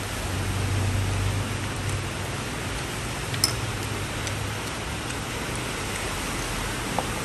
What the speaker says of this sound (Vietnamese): Ở nhà mưa gió này.